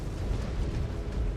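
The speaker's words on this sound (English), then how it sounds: "Target Oh, destroyed. that's a CT explosion." A mech's center torso explodes in the video game MechWarrior 5: Clans, a dense, steady roaring rumble that fills the whole short moment.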